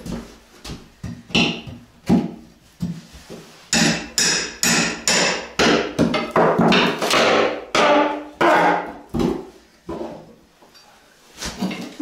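Repeated heavy hammer blows while prying old wooden boards off in a village house, a dense run of loud, close thuds and knocks with some creaking wood, no talk.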